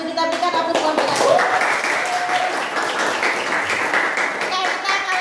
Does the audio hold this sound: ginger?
no